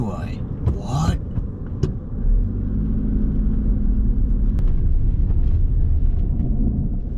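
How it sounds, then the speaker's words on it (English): A car's brake grinds as it slows beside a lake in Cornwall: a low, rumbling, droning scrape under road noise, close and loud through the middle of the stretch, with voices talking at the start. "it sounds like one of my brakes is grinding"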